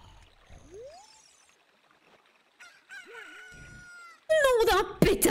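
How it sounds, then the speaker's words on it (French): Chicken crowing in the video game The Legend of Zelda: Ocarina of Time, a rising chirp followed by a loud, close cock-a-doodle-doo cry near the end over faint game ambience. "Est-ce qu'on va réveiller Monsieur Lonlon avec ce poulet?"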